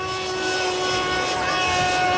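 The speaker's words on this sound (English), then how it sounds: "The VisionAire Vantage is the first all-composite, single-engine corporate jet airplane." An RC scale model of the VisionAire Vantage single-engine corporate jet flies past, giving a steady, loud whining engine drone with a sustained high tone that holds throughout.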